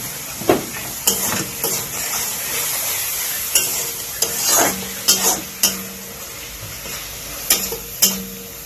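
Masala spices with turmeric and salt being stir-fried in a pan, a steady sizzle broken by repeated scraping stir strokes, close and fairly loud, with no talking.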